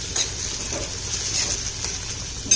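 Chopped tomato hits browned onions in a pan for sev undhiyu, giving a steady close sizzle with light stirring scrapes and a brief louder clatter near the end.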